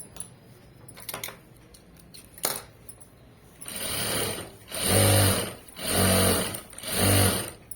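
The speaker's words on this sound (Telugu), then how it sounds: "నేను రెండో సైడ్ ఇంకా హెమ్మింగ్తో పని లేకుండా స్టిచ్ వేసేస్తున్నాను." Sewing machine running in three strong bursts of stitching after a few light clicks and taps, sewing a self-piping seam on the second side without hemming; close and loud, with no talk.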